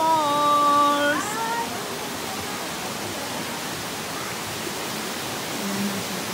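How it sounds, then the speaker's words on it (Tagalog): Millomeris waterfall in Cyprus roars as a steady, broadband rush of falling water, with a brief high tonal sound near the start. "Ayun na yung falls."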